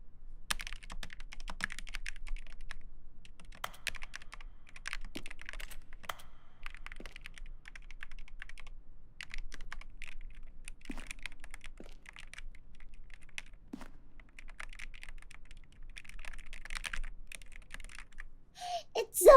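Rapid, uneven clatter of typing on a backlit computer keyboard held close, keys clicking in bursts with short pauses throughout, no talking over it.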